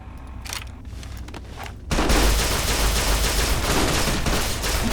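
Sustained loud gunfire in Fallout New Vegas, firing Ranger ammunition at fiends: a quieter stretch of distant shots, then a sudden dense barrage of rapid close shots that continues to the end.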